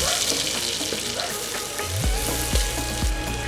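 Onion and mustard seeds fry in hot oil in a Jaffna village kitchen, a steady crackling sizzle with a few low thumps of the ladle stirring in the pan toward the end.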